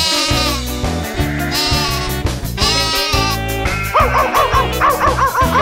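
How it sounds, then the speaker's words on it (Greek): A playful cartoon-style dog barking in a children's song about a dog on the school bus, its yaps bouncing over bright music with steady backing rhythm, loud and upbeat. "Το σκυλί στο σχολικό κάνει γουφ γουφ γουφ"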